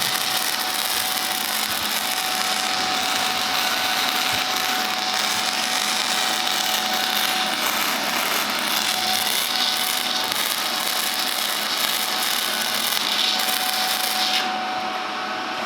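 A titanium MIG-TIG flux stick welder laying a bead on rusted rocker panel metal of a Nissan S14 240SX, a steady loud crackling buzz that holds for the whole stretch, with no talk.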